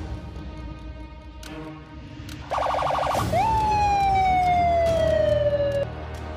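A warbling electronic ambulance siren in Sakura School Simulator starts abruptly and then settles into a loud, steady falling wail, synthetic and close.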